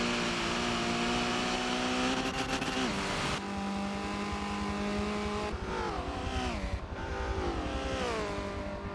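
Subaru race car in the Forza video game during a spec racing series lap, engine droning loudly with steady revving, a gear-change dip and pitch sweeps as it accelerates, continuous and close.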